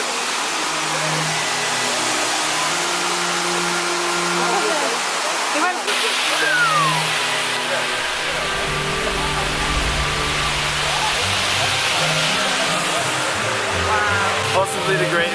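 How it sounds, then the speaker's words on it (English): Kuang Si Falls near Luang Prabang roars with a steady, dense wash of falling water throughout, loud and close, while people talk faintly beneath it. "Possibly the greatest waterfall I've ever seen."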